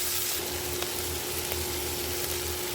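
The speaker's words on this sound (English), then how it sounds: "We're just gonna stir it up." Peppers, onions, celery and meat sizzle hard over high heat in rendered fat, a dense continuous frying hiss with a couple of faint stirring clicks and a steady low hum underneath.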